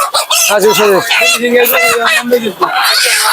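Loud, close clucking and crowing from native chickens and roosters at a poultry market, a busy run of bird calls mixed with nearby voices.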